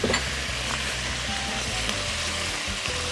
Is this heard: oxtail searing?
yes